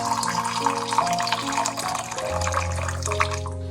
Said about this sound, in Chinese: 再倒入300克开水。